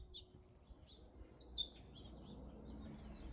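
Small birds chirp faintly outdoors in a sunny Arizona backyard garden with a lemon tree and zucchini plants, a few short high tweets scattered over a steady low background hum.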